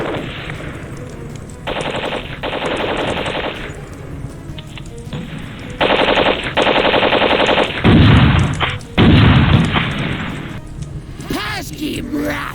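Soldiers open fire in an audio drama: loud bursts of rapid gunfire come in several separate volleys, with shouting voices between them.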